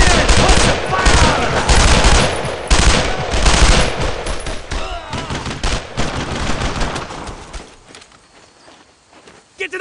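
Machine-gun suppressing fire and rifle shots rattle in dense, loud bursts during a World War II squad battle in Brothers in Arms: Road to Hill 30, thinning out toward the end with some footsteps and shouted voices.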